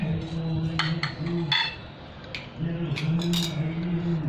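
A knife cuts a slice from a freshly baked, still-warm yogurt cake, giving a few light metallic clinks and scrapes against a plate or pan over a steady low hum.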